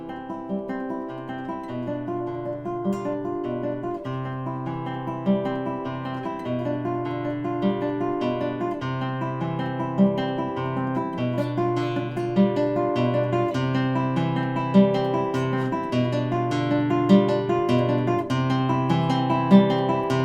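Classical guitar playing continuous P-I-M arpeggios from Giuliani study no. 2 with shifting dynamic levels, a steady flowing stream of plucked notes, close and clear, alone without talk for about twenty seconds.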